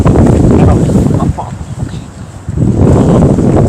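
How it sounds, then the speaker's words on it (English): Strong wind buffets the microphone in loud, continuous gusts, easing briefly in the middle before roaring back up. "It's getting too windy."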